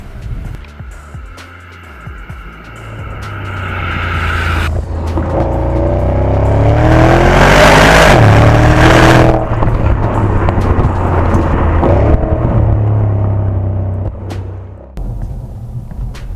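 A 2011 Porsche Panamera Turbo accelerating hard from inside the cabin, its engine swelling into a loud, sustained roar with rising revs and quick gear changes before easing back to a low rumble.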